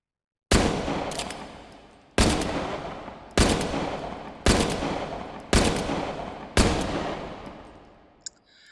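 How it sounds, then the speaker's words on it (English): Six loud handgun shots fired at a target in the VR game H3VR, spaced about a second apart, each a sharp crack with a ringing tail, followed by a small metallic clack at the end. "So we're going to aim it at our target and pull the trigger."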